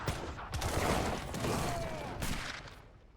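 Musket volleys ring out in a strategy video game battle, a dense crackle of shots in a few overlapping bursts.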